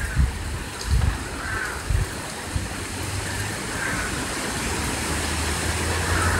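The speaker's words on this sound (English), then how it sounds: "There's the palms on the side of my house getting hammered by the wind." Hurricane Matthew winds lashing palm trees beside a house, a loud continuous roar with low gusty rumbles buffeting the microphone, a few heavier thumps early, and an occasional crow cawing in the background.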